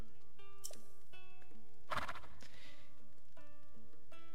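A horse neighs in the video game Zelda: Tears of the Kingdom, a loud whinny burst near the middle set among game music tones, with no talk over it.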